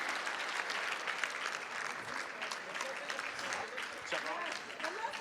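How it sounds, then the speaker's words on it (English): An AccessCal Gala 2015 audience gives a sustained round of applause for people on stage, dense clapping spread through the room, with a voice speaking briefly beneath it near the end. "one more round of applause for these fine people on stage here with you"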